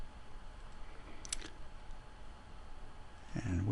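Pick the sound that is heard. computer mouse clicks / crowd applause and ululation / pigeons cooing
computer mouse clicks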